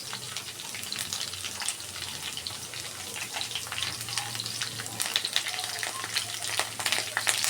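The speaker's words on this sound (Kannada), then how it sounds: "ಎಲ್ಲನೂ ನಾನು ಎಣ್ಣೆಲಿ ಫ್ರೈ ಮಾಡ್ಕೊತೀನಿ." Onion, garlic, green chilli and ginger fry in hot oil with a steady, close crackling sizzle and scattered pops that run without a break, with no talking over it.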